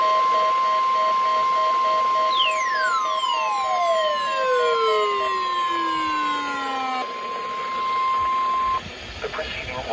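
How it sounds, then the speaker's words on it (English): The National Weather Service warning alarm tone sounds as a loud, steady, unbroken pitch for about nine seconds, with sweeping, falling tones passing over it midway before it cuts off. "The preceding was a test of the National Weather Service warning alarm tone."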